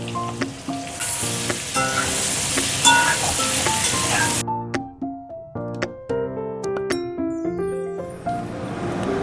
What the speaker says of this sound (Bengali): আলুগুলোতে একটু লবণ, সামান্য একটু লবণ আর হলুদ দিয়ে মাখিয়ে আলুগুলো ভেজে নিই।